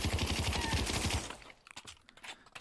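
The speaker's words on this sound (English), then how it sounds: "This Sten gun is another example of an open bolt gun." A Sten submachine gun in the VR shooter Pavlov fires a rapid full-auto burst for over a second, loud and dense, then stops, leaving softer clicks and handling noises.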